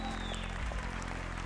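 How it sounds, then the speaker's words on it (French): Short burst of audience clapping at a Gascon cattle show in the Pyrenees, steady and moderately loud over a low background hum. "Vous pouvez l'applaudir également."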